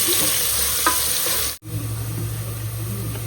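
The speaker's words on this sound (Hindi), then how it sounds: "प्याज डालेंगे।" Onions frying in a pan for kheema give a steady, close sizzle with a faint stir or two, cut by a brief pause midway before the hiss resumes.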